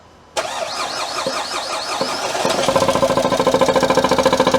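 Renault Trafic diesel van with a failed injector cranking for a couple of seconds, then catching and settling into a loud, close, rough rhythmic idle, with no talk.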